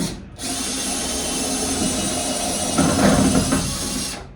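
A power drill with a deep socket spins out a screw from a bus being converted into a camper van, a steady close whine running throughout and growing rougher and louder near the end as the screw breaks free.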